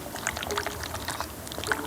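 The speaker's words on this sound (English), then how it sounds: "The oil in here, air bubbles." Air bubbles gurgling through the oil inside a boat ignition coil as it is tilted, close small bubbly pops and clicks in a quick irregular patter, no speech.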